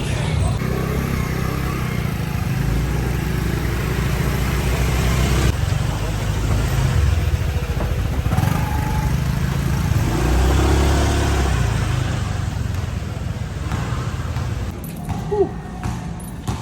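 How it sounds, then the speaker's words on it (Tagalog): Road traffic in Barangay Bagong Ilog, Pasig, with car and motorcycle engines passing and revving in a steady loud wash, and voices talking over it. "Traffic."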